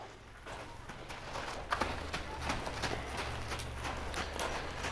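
A horse, a five-year-old Mustang, loping on soft ground, its hoofbeats thudding in a steady rolling rhythm at moderate distance with faint background rustle.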